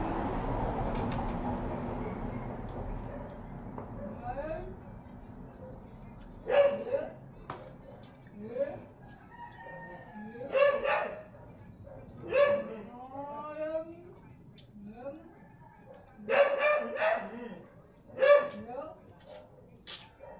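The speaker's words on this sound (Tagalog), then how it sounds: "May nakitang ibang aso sa Sandy" A dog barks in a run of short, fairly close yips and barks spaced a second or two apart, with quieter whimpering sounds and faint voices in a room behind.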